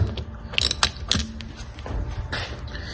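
A wrench turning to loosen a spark plug on a Corvette C4, giving a few sharp metallic ratchet clicks and clanks over a low background hum, close and alone.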